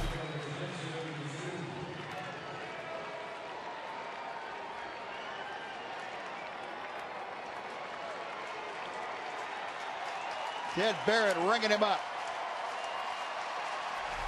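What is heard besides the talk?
baseball stadium crowd cheering on their feet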